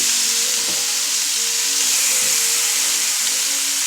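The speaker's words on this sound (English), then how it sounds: "We got it sizzling for a reason." Steady, dense sizzling of chicken frying in a hot pan, a constant crackling hiss with faint low clatter underneath, close and fairly loud, no talking.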